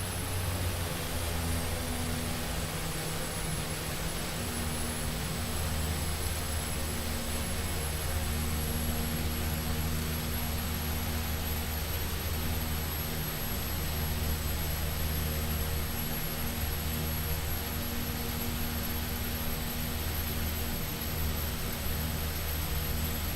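Aircraft engine in the X-Plane 11 flight simulator spooling up for takeoff, a steady loud drone with a constant high whine above it, holding evenly and unbroken, with no talk.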